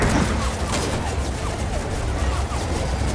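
Heavy sustained gunfire from Gears of War 4 fills the scene, a dense rattling barrage of shots and impacts continuing throughout at close range.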